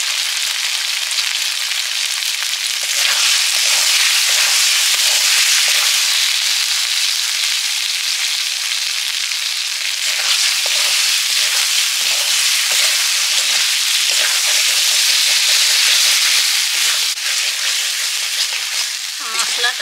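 A tomato masala with turmeric and chili powder fries in a pan while being stirred, a loud, bright, continuous sizzle with bursts of crackling and scraping strokes, with some talk mixed in.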